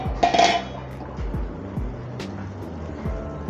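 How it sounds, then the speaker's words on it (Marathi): A metal lid is lifted off a pot of stuffed karela masala cooking in peanut gravy, with a sharp clatter and clink at the start followed by quieter scraping and soft kitchen noise. "5 मिनिटं झाली आहेत, झाकण काढून पाहूया आपण आता."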